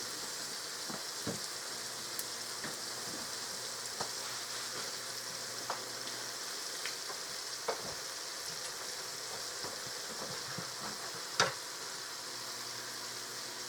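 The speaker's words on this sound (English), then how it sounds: "And that's going to fry up beautiful." Fry bread dough frying in hot oil gives a steady, close sizzle with scattered crackles and pops throughout, one sharper pop standing out near the end, and no voices.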